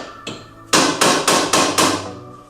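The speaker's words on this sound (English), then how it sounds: "I like to get everything loose with a hammer." Five sharp metallic hammer strikes on a car ball joint ring out in a steady rhythm, close and loud, each blow followed by a brief ringing decay.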